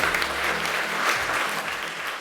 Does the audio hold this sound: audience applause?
yes